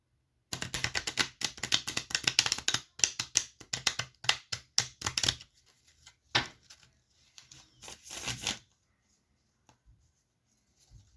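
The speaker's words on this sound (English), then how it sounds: "We're shuffling right now." A Rider-Waite tarot deck is shuffled by hand, giving rapid crisp riffling flutters in bursts for about eight seconds, close and clear, then falling silent.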